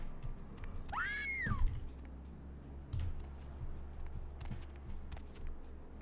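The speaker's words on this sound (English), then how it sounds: "I heard a scream." A single high, wavering scream rings out briefly inside a mansion in Vampire the Masquerade Bloodlines, rising and falling near the start over a low ambient hum, followed by faint ticking and footsteps.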